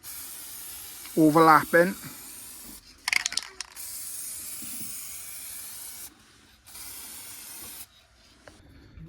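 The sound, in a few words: spray coat being applied to a car part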